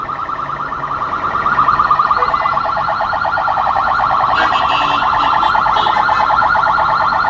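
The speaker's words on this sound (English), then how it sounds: "every few minutes, the police sirens going by." Wailing police sirens pass along a busy Cairo street, the rising-and-falling tones loud and continuous, swelling after the first second and holding steady with faint traffic beneath.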